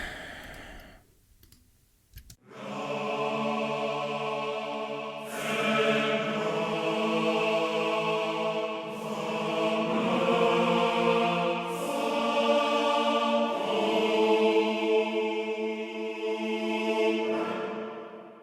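A choir sings sustained chords on nonsense syllables, the voices shifting together every couple of seconds after a brief quiet start.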